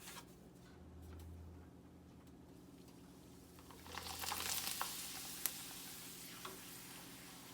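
Papadum lentil chips fry in hot oil, a soft crackling sizzle that swells into a brighter burst of bubbling and popping midway, then settles back to a gentle fizz, close and fairly quiet.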